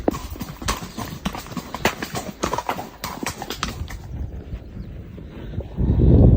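Shod horse hooves clip-clop in a steady, uneven rhythm on a rough, rocky mountain trail, close and fairly loud for about four seconds, then give way to a rising rush of wind noise against the microphone.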